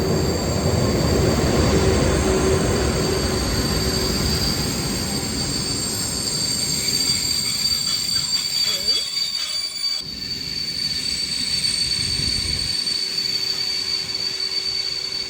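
A train bound for Prague rumbles into a station in the Czech Republic, its wheels letting out sustained high metallic squeals that waver and fade as it slows, loud and close.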